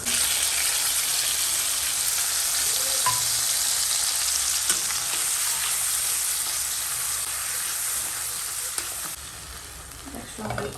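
Whole black pepper, cloves, cumin and cardamom fry in hot oil with a steady, close, continuous crackling sizzle that holds even throughout, with a few faint clinks and no talking.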